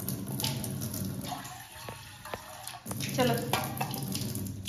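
Running tap water splashes steadily while a pet parrot is readied for a bath in water with neem leaves, with a voice speaking over the flow.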